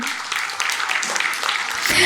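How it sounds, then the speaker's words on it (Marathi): Applause from parents for children at a drama camp, a steady broadband patter of many hands clapping close by and filling the whole moment, swelling a little louder near the end. "सगळ्या पालकांना विनंती आहे, जोरदार टाळ्या होऊन जाऊ देत आपल्या मुलांसाठी"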